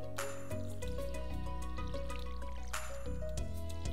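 Watering crops with a watering can in the Stardew Valley farming game, soft trickling and dripping water effects playing over steady background music.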